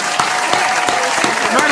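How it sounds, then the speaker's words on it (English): Audience applause at a rap battle event fills the room, with broadband clapping interrupted by a few sharper accents and scattered voices underneath. "Let's give a big round of applause for you."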